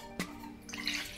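Water pours into the lid of a Nova Tour camping pot on a kitchen scale, a brief close splash and trickle lasting about a second.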